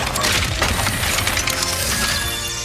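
Breakable objects smash in Ratchet & Clank: Rift Apart, a rapid flurry of loud cracking and splintering crashes with scattered debris clatter, close and busy with no talking over it.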